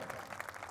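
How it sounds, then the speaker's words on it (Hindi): An audience at a school ceremony honouring board-exam toppers breaks into a brief burst of applause, quick, faint, distant-sounding clapping. "बजाओ तालियां।"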